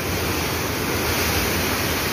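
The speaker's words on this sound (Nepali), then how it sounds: "विशाल बाढी हो यो" A huge flood on the Marsyangdi river produces a loud, continuous roar of rushing water, close and unbroken, with no voices over it.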